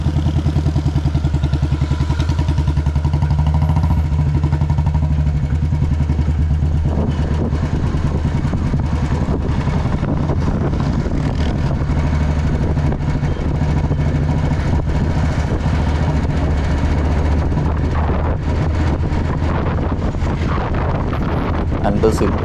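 A Royal Enfield CI Bullet motorcycle cruising in top gear at about 50 km/h while heading downhill, its steady low engine thump running continuously up close beneath heavy wind buffeting on the microphone.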